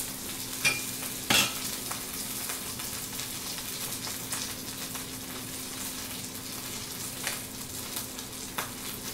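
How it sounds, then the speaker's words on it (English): Rice burgers fry in a pan with a steady, close sizzle and crackle, punctuated by a couple of brief clinks, with no talking. "So these are cooking much faster."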